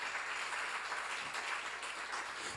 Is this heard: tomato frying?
no